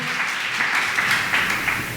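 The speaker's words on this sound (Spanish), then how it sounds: "Dele fuerte un aplauso al Señor." A church congregation claps hard in praise, a brief, dense roll of applause from many people, loud and continuous.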